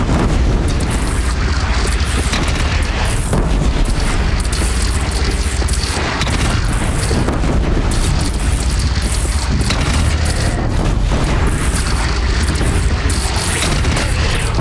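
A bridge is shot down in Horizon Zero Dawn and collapses in a long, loud, continuous roar of booming crashes and rumbling debris that fills the whole stretch, with no talk.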